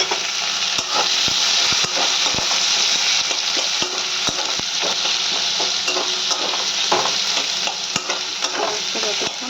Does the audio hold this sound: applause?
no